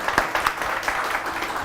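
A live audience at a Hindi comic poetry gathering bursts into brief, loud applause welcoming poet Sudesh Yadav from Ghaziabad, a dense wash of clapping lasting under two seconds.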